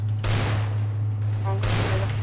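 Bursts of automatic gunfire in Counter-Strike on the Dust map come in two loud rapid volleys separated by a short pause.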